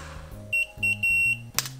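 A hair styling appliance, a curling device, gives a series of sharp, electronic beeps, three close repeated tones followed by a brief louder burst, set against a low, steady hum.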